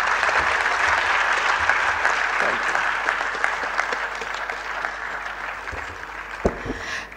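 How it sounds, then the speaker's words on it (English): An audience at a university maritime studies lecture in Lagos breaks into sustained applause, dense clapping from a large crowd heard close and loud, with faint voices beneath. "A better round of applause."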